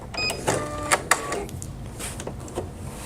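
An EverSewn Sparrow X2 sewing machine sewing very short stitches makes a quick, close mechanical whirring and clicking in brief bursts over about three seconds.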